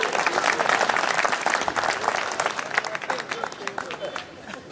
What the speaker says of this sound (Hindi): तालियां बजाओ यार